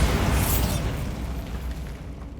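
A Bombarda blasting spell from Hogwarts Legacy detonates as one loud, close explosion with a deep booming burst that rolls off into a fading rumble.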